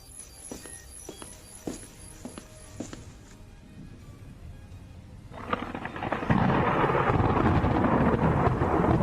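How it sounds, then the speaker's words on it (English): A fierce storm with heavy rain and wind, opening with scattered thumps and rumbles before building into a loud, dense roar that swells and holds through the second half. "The storm has become too aggressive."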